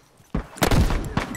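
Military rifle fire in The Last of Us Factions multiplayer cracks out in a few close, punchy bursts following a brief lead-in, loud and rapid.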